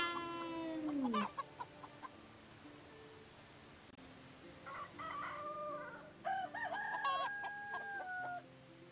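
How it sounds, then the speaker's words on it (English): Chickens cluck and a rooster crows on a farm in the video game Medieval Dynasty: one long crow at the start, then scattered clucks and a second drawn-out crow, moderately faint over a quiet ambient background. "Chickens!"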